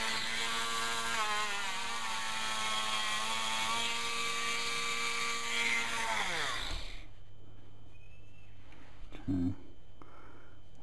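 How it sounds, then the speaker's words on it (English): A rotary tool grinds excess acrylic off cast Predator teeth, a steady high whine with shifting pitch that runs several seconds before spinning down and stopping, followed by quieter handling noise and a brief thump. "So right now we're just grinding out the excess."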